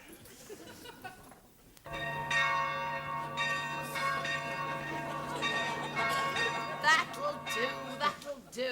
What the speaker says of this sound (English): Brother-in-law, ring the bell.